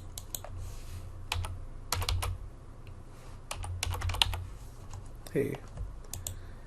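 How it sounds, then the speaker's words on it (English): Fingers tap out short irregular bursts of keystrokes on a computer keyboard nearby, and a voice speaks briefly partway through. "I'm going to write that down."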